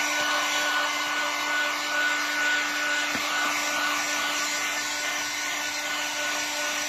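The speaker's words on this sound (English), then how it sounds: "This air gun is so hot, so you just keep the air moving around it." A very hot hot-air gun blows over fresh paint on a Honda CD175 motorcycle engine, a loud steady fan roar with a constant hum, close and unbroken.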